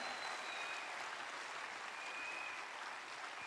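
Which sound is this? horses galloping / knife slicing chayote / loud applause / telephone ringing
loud applause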